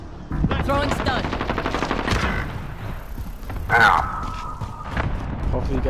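Video game gunfire, a rapid automatic burst of shots with a heavy thump partway through, continuing under people talking over it.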